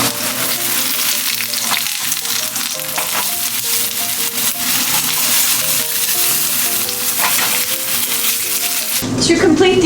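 Oil sizzles and crackles loudly and steadily in a pan as a homemade vegan burger starts to cook, with no talk over it.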